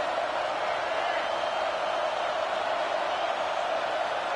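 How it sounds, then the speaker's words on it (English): A football stadium crowd roars on third down in a steady, loud, unbroken wash of cheering and noise that holds evenly throughout. "Decibels rising as the crowd gets behind this defense on third down."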